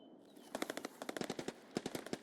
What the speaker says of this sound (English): Right, we've got some shooting going on,